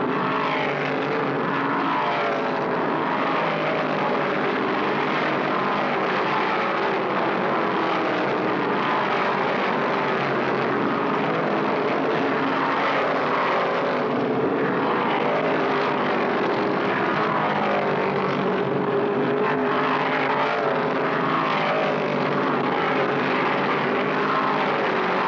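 Chevy and Dodge stock cars race at Martinsville in the 1972 Virginia 500, their engines merging into a continuous, dense roar heard from a distance.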